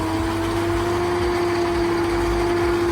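A Swaraj tractor hitched to a 16-foot trolley idles steadily nearby, a constant low droning hum with a strong tonal whine and no pauses.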